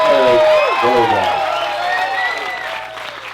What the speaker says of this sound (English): Ladies and gentlemen, a big round of applause for Mr.